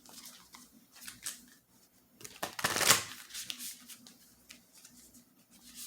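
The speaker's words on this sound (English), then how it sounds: "I'm going to shuffle" A tarot card deck is shuffled up close, with quiet papery flicks and taps building into one loud riffling burst in the middle, then softer scattered card sounds.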